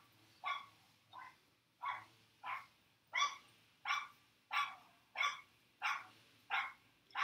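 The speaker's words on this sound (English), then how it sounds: "It doesn't seem to bother her that the dog barks incessantly." A neighbor's dog barks steadily outdoors at some distance, eleven or so evenly spaced single barks roughly every two-thirds of a second, with no voices over them.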